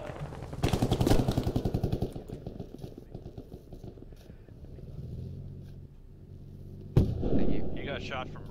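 Gunfire in the military shooter game Squad: a dense, loud burst of rapid shots up front, then quieter distant firing and rumble, with one sharp close shot near the end.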